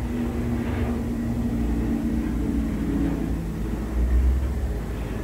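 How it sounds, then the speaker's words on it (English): An airplane flies overhead, heard as a steady, fairly distant broadband rumble that swells slightly near the end, with no voices. "Do you hear that plane?"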